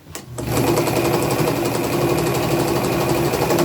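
A domestic sewing machine fitted with a large denim needle stitches a shirt, starting after a brief pause and then running in a steady, loud, close mechanical whir.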